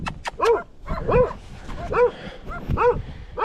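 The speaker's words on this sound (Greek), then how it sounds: "Πολλά σκυλιά." Several dogs bark and yip outdoors during a light rock fishing trip. The barks come close and loud in a quick, repeated rhythm over a few seconds.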